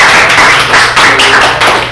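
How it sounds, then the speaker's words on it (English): A live audience at a blockchain gaming presentation gives a round of applause, a dense, steady wash of many hands clapping that fills the whole two seconds with slight swells. "If I can get a round of applause for this guy right here"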